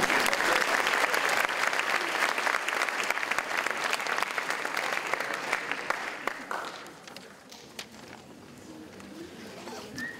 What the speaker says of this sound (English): one more round of applause to them